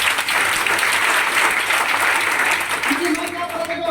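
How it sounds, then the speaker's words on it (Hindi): Audience applause in a sales or business training session, a loud, even wash of clapping lasting the whole stretch, with a voice starting to speak near the end. "इसके लिए जोरदार ताली होना चाहिए।"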